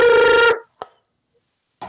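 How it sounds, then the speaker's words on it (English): A telephone rings for an incoming call: one loud, close electronic ring tone for half a second, then brief clicks and the start of another ring after a pause. "And get a phone call."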